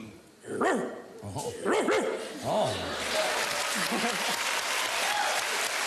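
A person imitates the bark of a large Alsatian dog on a quiz game show stage, giving several loud, close yelps and woofs in quick succession, followed by audience applause and cheering that continues to the end.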